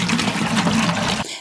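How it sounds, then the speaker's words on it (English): Hydroponic nutrient water is poured into a bucket, producing a loud, continuous rushing splash that stops abruptly near the end. "The first thing I'm going to do is fill this bucket up with hydroponic water."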